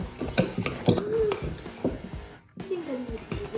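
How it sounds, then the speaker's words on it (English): A utensil clinks and scrapes against a bowl while stirring a foamy slime mixture, close and uneven, with a soft sticky squelch and people talking over it. "Stir it all in. Mix it together."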